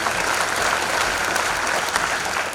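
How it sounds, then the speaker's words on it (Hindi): Loud, steady applause from an audience at an Indonesian-style seminar hall for RAS exam students, dense continuous clapping sustained throughout with no break. "उनके लिए एक बार जोरदार तालियां।"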